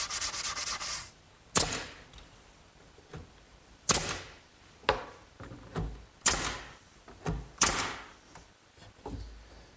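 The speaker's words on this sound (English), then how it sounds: "let's round over the edges and actually celebrate it" A wooden cupboard stile has its edges rounded over with abrasive strokes, a series of sharp, loud rasping scrapes in uneven rhythm separated by short pauses.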